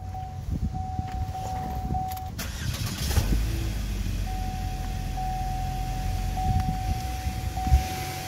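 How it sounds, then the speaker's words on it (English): A 2013 GMC Terrain SLT with 112,000 miles cranks briefly and starts, then idles with a low steady engine hum, while a thin constant tone runs through the background. "Let me fire it up so you can hear it run."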